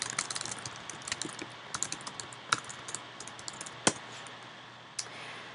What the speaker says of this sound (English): you type in your search term